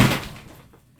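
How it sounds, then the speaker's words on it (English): A single loud thump close by as a cat knocks an object over indoors, a sharp hit that fades quickly into quiet. "cat just knocked over something."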